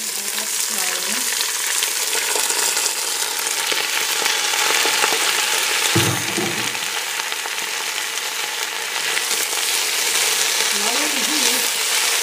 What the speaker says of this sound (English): We add our spinach. Add that slowly.